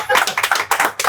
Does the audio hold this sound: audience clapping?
yes